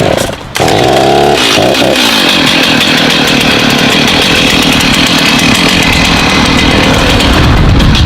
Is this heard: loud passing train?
no